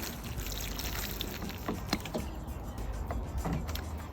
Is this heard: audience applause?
no